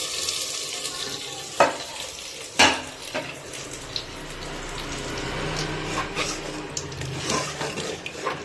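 Tempering spices sizzle and fry while being added to khichuri, a steady close hiss broken by a few sharp clatters of stirring, with no talk.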